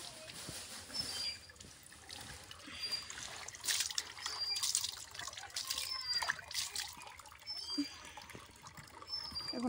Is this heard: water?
yes